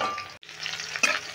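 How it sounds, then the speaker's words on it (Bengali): Cauliflower florets frying in hot oil in a wok for a roast, giving a steady, close sizzle that dips for a moment, then rises again with a brighter burst of crackle. "কপিটা খুব ভালো লালচে করে ভেজে নিতে হবে"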